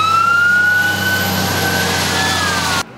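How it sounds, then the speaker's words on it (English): An outdoor warning siren sounds for severe weather in North Texas, a loud, steady wail with slowly gliding pitch that carries for nearly three seconds before cutting off abruptly. "Paying attention to warning sirens could be a lifesaver this time of year in North Texas."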